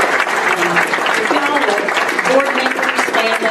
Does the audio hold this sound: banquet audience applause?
yes